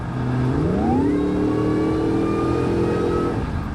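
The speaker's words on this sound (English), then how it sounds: "you get a good combination of motor and exhaust notes" A 2004 Ford Lightning pickup truck engine revs up, its deep exhaust note rising in pitch and holding a loud, steady drone before easing off.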